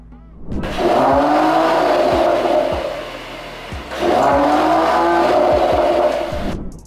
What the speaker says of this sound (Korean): 이 차량 배기음 안 들어보면 서운하잖아요